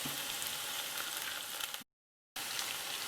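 Chopped shallots and curry leaves fry in a pan for a potato curry with a steady, close sizzle that cuts out briefly to silence, then resumes.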